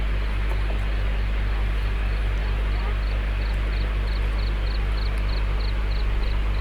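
Crickets chirp at a natural campsite in Cibodas, Bogor, in the morning, with short, evenly spaced high trills repeating over a steady low background hum.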